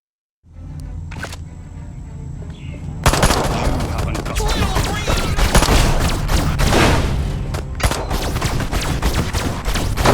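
A disintegrator ray fires in the video game Destroy All Humans! Remake, a loud sustained crackling, buzzing blast running almost continuously for several seconds after a short quiet start, with brief breaks and booming impacts.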